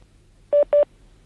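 Two short electronic telephone dialing tones in quick succession, clear and close, as a call is transferred to another extension; low background hum around them and no speech.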